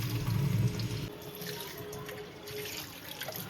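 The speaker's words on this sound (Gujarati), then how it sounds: "હવે અત્યારે હું ત્રણ થી ચાર પાણીએ ધોઈ નાખું" Soaked lentils being washed in a sink under running tap water, with steady rushing and splashing that's loudest at first and then settles into a softer, continuous flow.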